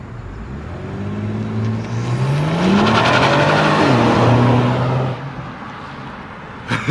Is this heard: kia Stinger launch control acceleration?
yes